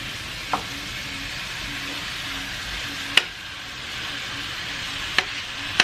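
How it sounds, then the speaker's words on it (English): Ground meat sizzles steadily in a pan for red beans and rice, a soft continuous hiss with a few sharp clicks of a spoon against the pan. "Add your meat."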